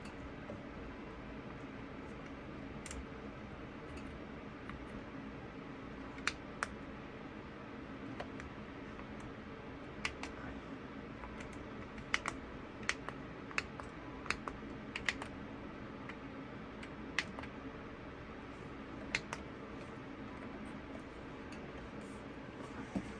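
Plastic buttons and knobs on a Winwing A320 FCU flight control panel clicking in scattered single taps and short clusters over a faint steady hiss, close and crisp.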